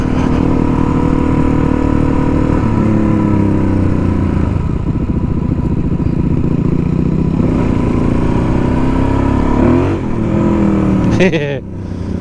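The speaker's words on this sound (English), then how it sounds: "I was trying to do a wheelie." A motorcycle engine revs and roars loudly and steadily up close during an attempted wheelie on a ride near the Wynoochee Dam, with wind buffeting the microphone throughout and a sharp clatter near the end.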